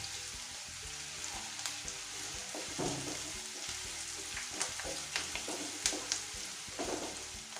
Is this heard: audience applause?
no